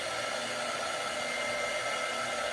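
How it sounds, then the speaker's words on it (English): A craft heat tool blows hot air to dry Mod Podge on a napkin, a steady, loud, unbroken whooshing drone held close throughout. "I'm just using the heat tool to dry it."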